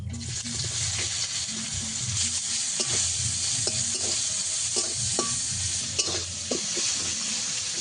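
Chopped onion fries in oil with nigella seeds and dried red chilli, hissing steadily up close while a spatula stirs it, giving repeated scraping strokes and soft knocks against the pan.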